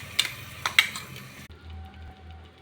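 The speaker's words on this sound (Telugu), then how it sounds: "ఇప్పుడు ఒక టమాటా మిక్స్ చేసి వేసుకుంటున్నాను." Tomato is mixed into a mutton and potato curry masala frying in a pan, with a few sharp spoon clinks against metal followed by a soft low sizzle.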